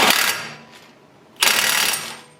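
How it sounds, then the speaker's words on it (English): A big socket ratchet clicks while tightening large nuts on the control arm of a 2004 Toyota Sienna, with two close bursts of rapid ratcheting separated by a brief quieter pause. "I'm going to take a big old socket here"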